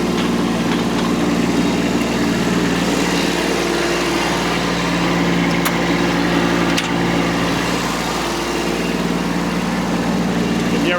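A compact tractor fitted with loader forks runs steadily on an Alaska homestead garden, a loud constant close engine drone with a low hum and no change in pace.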